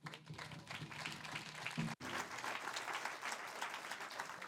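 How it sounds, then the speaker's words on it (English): Audience applause at an Indigenous Peoples' Day 2022 gathering in Sauk Prairie, steady dense clapping from a crowd that continues past a brief dropout. "So give her a round of applause."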